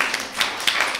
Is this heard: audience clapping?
yes